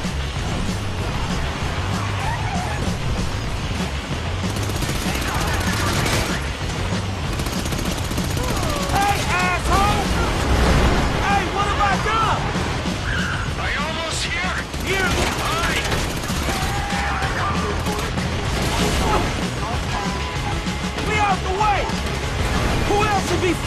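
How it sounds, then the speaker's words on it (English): Automatic and machine-gun fire in the video game Grand Theft Auto 5 during a military heist mission, long rattling bursts and crashes loud and continuous, with shouted voices mixed among the shots. "You hear that gunfire?"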